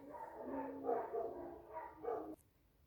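Several dogs bark in bursts across the moment at moderate distance, a few overlapping barks rising and falling before cutting off into quiet.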